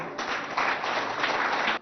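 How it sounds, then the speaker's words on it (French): An audience claps for jury members at a school competition event in Biltine, a short burst of dense applause that swells and stays steady, heard from within the crowd. "je vous demande d'ovationner très très fort"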